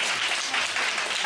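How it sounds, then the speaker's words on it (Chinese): A brief burst of steady applause from a church congregation, close and dense, with many hands clapping together and no talking over it. "来，我们给你掌声鼓励一下"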